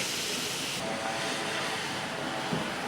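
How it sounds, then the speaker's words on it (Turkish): Squeezed onions sauté in a pan for a köfte filling, making a constant soft sizzling hiss that holds steady throughout with no talk over it. "Ve soğanımız yumuşayana kadar kavurmaya devam ediyoruz."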